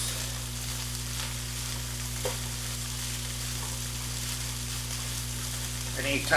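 Egg fries with a soft, constant sizzle in a pan while a spatula breaks it up, adding a few light scraping taps, with a louder scrape at the very end.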